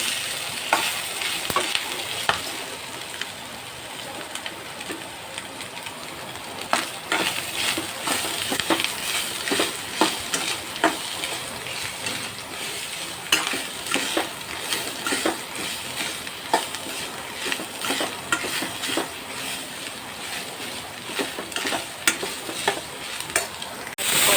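Dry mutton sautéed in a pan crackles and sizzles steadily, with frequent stirring scrapes and light clicks of a spatula against metal.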